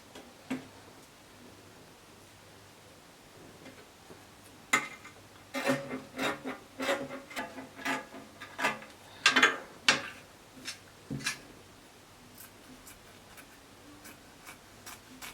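Scissors snip through dress fabric in a quiet room, a run of soft, irregular close-up cuts and rustles that grows busier midway, then trails off into a few scattered snips.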